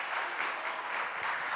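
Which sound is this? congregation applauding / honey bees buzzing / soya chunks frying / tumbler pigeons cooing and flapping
congregation applauding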